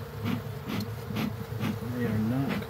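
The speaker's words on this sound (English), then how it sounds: "I'm trying to get the bees here out from that crevice." Honey bees buzz steadily and close by during a hive inspection, a dense droning hum that wavers in pitch as individual bees move around.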